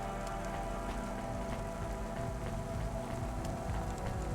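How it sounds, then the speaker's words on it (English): Steady rain drums on the roof of a car in the video game Cloudpunk, a soft, even patter that continues alone with no voices over it. "It's the rain hitting the top of the car."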